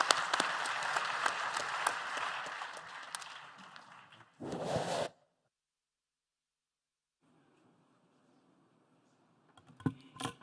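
Audience applause at the IUCN Africa Protected Areas Congress, a dense burst of clapping for about four seconds that fades, then a short loud flare, a long silence and a faint return of scattered claps.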